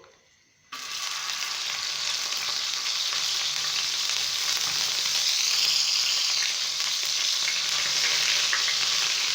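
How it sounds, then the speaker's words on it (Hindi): Ginger garlic paste hits hot oil on a tawa and bursts into a loud, sustained frying hiss after a brief quiet moment, then crackles steadily up close. "जिंजर गार्लिक पेस्ट को डाल के मैंने अच्छी तरह से भून लिया है।"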